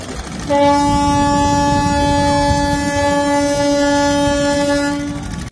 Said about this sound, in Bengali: আমার ফেরি ছেড়ে দিল, সে হুইসেল বাজালো, এখন ছেড়ে দিবে।